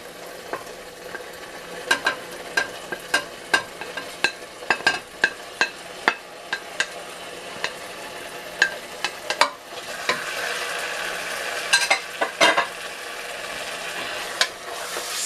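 Carrots and sweet pepper frying in a pan while being stirred, with repeated sharp utensil scrapes and taps against the pan over a low continuous sizzle that grows a little louder toward the end.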